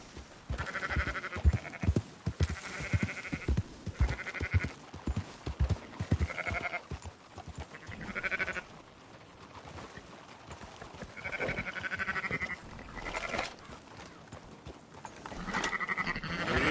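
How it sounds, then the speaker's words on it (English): Sheep bleat repeatedly in a video game as a rider herds the flock on horseback, with clip-clopping hooves and busy ambient sound beneath the moderately loud, recurring animal calls. "Marston, why don't you leave the sheep to me?"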